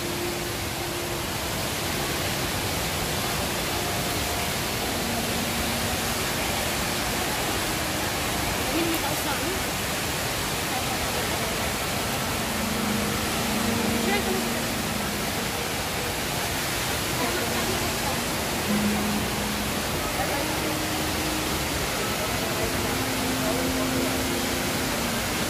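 A large indoor waterfall at Jewel Changi Airport in Singapore roars as a steady, dense wash of falling water that fills the whole scene, with faint voices and hum buried underneath.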